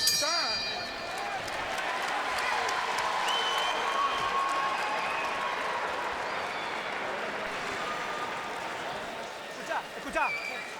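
A boxing arena crowd cheers and applauds for Kelly Pavlik during his bout with Sergio Martinez, a sustained roar of clapping and shouts heard from a distance under a commentator's voice.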